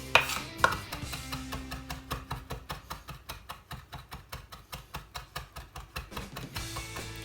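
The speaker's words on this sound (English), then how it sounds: "just chop it nice and fine" A knife chops salad ingredients finely for a chicken Caesar salad, with a quick, steady run of crisp close taps on a board that slows briefly at the start and then settles into an even rhythm.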